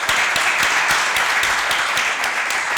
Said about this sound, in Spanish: Me aplaudís porque me voy, no porque iba a hablar.